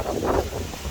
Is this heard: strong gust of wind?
yes